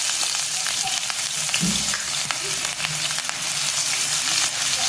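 Chopped onions fry in hot oil, a loud constant crackling sizzle close up, with a brief thump from the pan and a few faint clicks, no talking.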